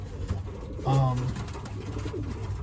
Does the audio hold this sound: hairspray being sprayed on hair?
no